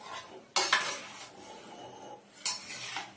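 Chilli chicken with gravy stirred in a pan, two bursts of close metal utensil scraping and clattering against the pan over a soft background sizzle.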